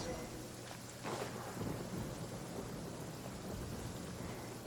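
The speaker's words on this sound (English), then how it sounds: "Love it when it rains in this game." In the video game Genshin Impact, steady rain patters continuously while a deep roll of thunder swells near the start and fades out under the hiss of the downpour.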